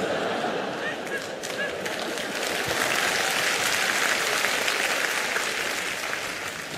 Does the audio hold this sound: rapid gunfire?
no